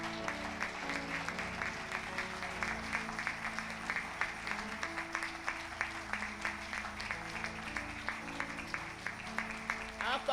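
A church congregation claps rhythmically in a steady beat during a prayer service, loud and sustained, with voices and music mixed underneath.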